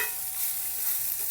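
Thecha chutney with coriander cooks in a pan, a brief steady sizzling hiss with soft stirring underneath, close and even.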